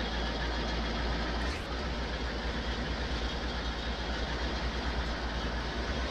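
Old forage chopper engine in Farming Simulator running steadily after starting, a continuous loud mechanical drone with one brief shift early on and no talking.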